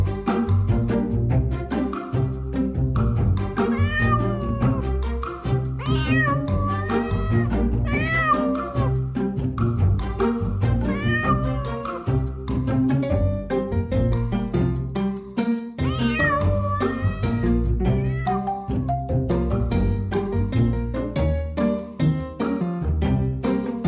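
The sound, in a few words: kitten meowing, stuck in a tree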